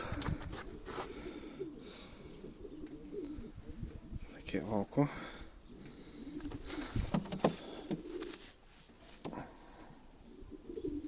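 Sport pigeons coo softly in a loft, low repeated calls mixed with rustling and clatter while someone talks over them nearby.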